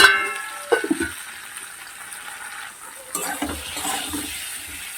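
Fish masala being stirred and fried in a pan: a spoon scrapes and clinks against the metal over a soft, steady sizzle, with a louder burst of frying near the end.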